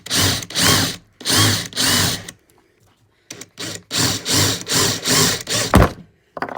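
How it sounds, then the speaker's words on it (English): A power drill bores into a wooden decoy in several short bursts, revving up and stopping with brief gaps between, close and fairly loud. "then drill the hole where I think it would be good"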